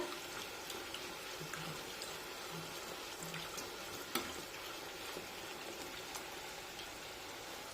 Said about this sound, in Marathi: आता पुरीची दुसरी बाजू बाजूसुद्धा छानपैकी तळून घेऊया